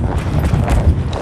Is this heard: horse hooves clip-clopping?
yes